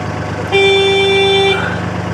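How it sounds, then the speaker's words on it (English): A single steady canal boat horn blast, loud and close, holds for about a second over a low engine rumble, then cuts off, on a canal near Yelvertoft. "I'm going to sound my horn now, I think."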